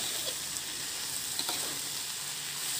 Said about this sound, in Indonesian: Terus kita masukin deh sayur-sayurannya. Kita aduk dulu.